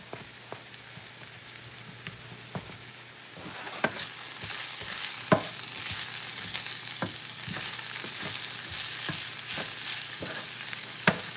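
Salmon croquette mixture is stirred in a bowl, a soft crackly wet churning under scattered sharp clicks and taps of the utensil, growing denser toward the end, close and quiet.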